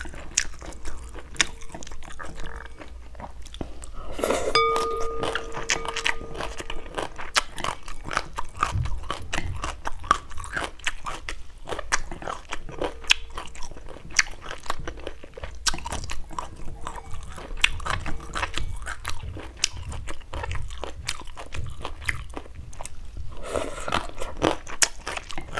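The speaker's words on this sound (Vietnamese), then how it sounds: "Mình tập trung nhai thôi." Someone eats a huge bowl of grilled chicken noodle soup, with close, continuous wet chewing and crunchy bites running throughout, alone without talk.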